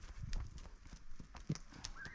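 A mare trots in a round pen, her hooves giving a steady clip-clop rhythm at close range on soft ground, with faint background noise and a brief higher vocal-like call near the end.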